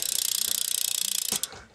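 Rear hub freewheel on a BMX bike with a 9-tooth driver clicking in a fast, even ratchet buzz as the wheel spins, loud and close, then stopping abruptly.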